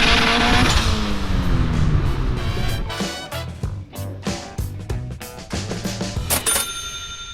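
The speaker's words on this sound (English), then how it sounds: "That sound, I love the blow-off valve." A Honda race car accelerating hard, its engine revving up through rising harmonic sweeps with sharp blow-off valve whooshes and bursts between gears, loud and close with no talking.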